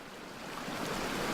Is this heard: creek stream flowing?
yes